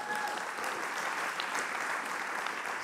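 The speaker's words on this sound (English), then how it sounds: "Yes, you can applaud already" Audience applause at an Indigenous Liberation Day gathering: a dense, steady wash of many hands clapping that holds at an even level for the whole stretch, with no voices standing out.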